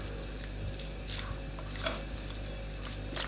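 Chicken is being mixed with seasoning in a bowl for chicken tikka pizza. Soft, wet squishing and faint clinks repeat in an irregular rhythm over a steady low hum, with no voices.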